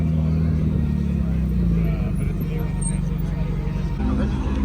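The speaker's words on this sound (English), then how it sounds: "Frank's leaving us in the Spider RS" A Lamborghini Huracan Spider RS pulls away from a local car show, its engine a loud, low, steady drone close by that shifts slightly in pitch as it leaves, with a person talking over it.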